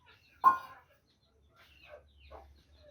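An Aseel hen gives one sharp, close cluck, then a few softer clucks and chick peeps sound faintly in a quiet room.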